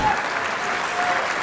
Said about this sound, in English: gets the standing ovation from the crowd and takes the match in dramatic fashion